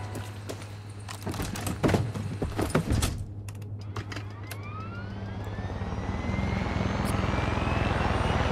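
Helicopters in the video game Far Cry 6: a steady rotor and engine drone that builds and grows denser toward the end, mixed with scattered clicks and mechanical clatter early on, with no talking.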